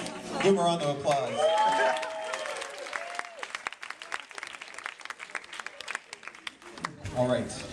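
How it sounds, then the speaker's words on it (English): An audience breaks into applause, a dense burst of clapping that builds and then thins out, with voices talking and cheering over its start and end. "Give him a round of applause."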